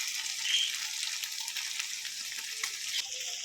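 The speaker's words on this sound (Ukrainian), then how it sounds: "Ще хвилиночку пожаримо" Steady sizzling and crackling of two eggs frying in a pan, a continuous bright hiss with small pops, close and moderately loud, no voices.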